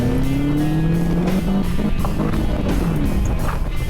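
A drift car cornering tightly around a cone course, its engine droning loudly and continuously with rising revs and a strained tire scrub, close and steady without talk.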